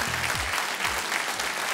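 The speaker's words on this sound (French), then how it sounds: "Et applaudissements du public." Studio audience applause on a French television game show, steady dense clapping filling the whole stretch, with low musical stings sweeping underneath.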